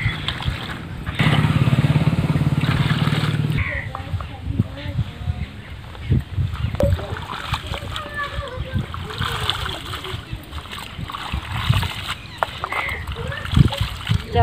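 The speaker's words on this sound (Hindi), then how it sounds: "चौराई के हमने पत्तियाँ अच्छे से धो के साफ कर लेती हूँ" Water splashes and sloshes as chaulai (amaranth) leaves are rinsed in a basin, with intermittent handling noises and occasional talking nearby.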